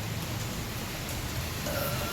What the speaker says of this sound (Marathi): बघा मस्त पाऊस येत आहे